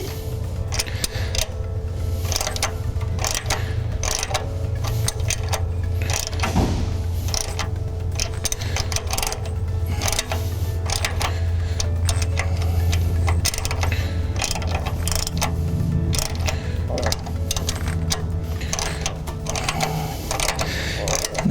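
Steady close ratchet clicking as bolts are tightened in turn on a crank seal installer for a 5.9L/6.7L Dodge Cummins diesel, continuous and busy over a low mechanical hum.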